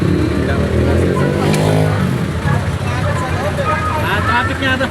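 Road traffic rumbles loudly on a street near where a container van crashed into a utility pole, with engines droning continuously under people talking.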